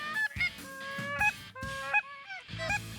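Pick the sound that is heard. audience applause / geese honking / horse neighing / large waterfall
geese honking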